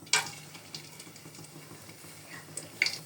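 Cloves and cardamom sizzle quietly in hot white oil in a pot for pulao, a faint, soft hiss broken by a few sharp metallic clinks of a utensil against the pan.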